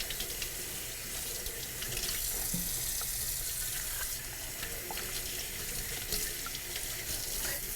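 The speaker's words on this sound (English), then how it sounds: "let me shut off this water." A kitchen faucet runs steadily while collard greens are rinsed under it. The water gives a continuous, close splashing hiss with no pauses and no talking.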